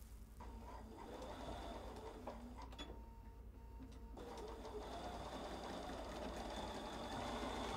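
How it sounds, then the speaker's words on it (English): A sewing machine runs in quick mechanical bursts while stitching a quilted insulated shopper tote, the whirring pausing briefly before settling into a steadier run, faint and close. "so we're gonna go to the sewing machine"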